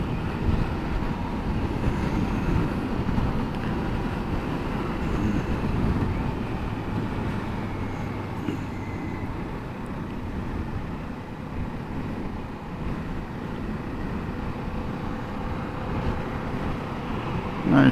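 A 2018 Kawasaki Ninja 400 motorcycle being ridden on the road, heard as a steady low engine drone mixed with heavy wind rumble from a noisy helmet, continuous for the whole stretch.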